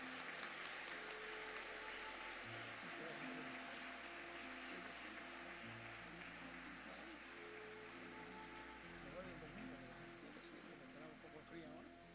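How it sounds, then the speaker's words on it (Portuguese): An audience at a church service applauds with sustained, even clapping that fills the whole stretch, steady and somewhat distant. "Fuerte aplauso."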